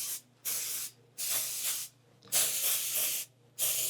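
An aerosol can of foot powder sprays in four sustained hissing bursts separated by short pauses, close and steady, with no talking over it.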